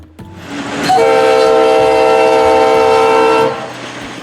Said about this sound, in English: you can often find them with a Nathan K5LA or Leslie horn for Eastern companies like NS or CSX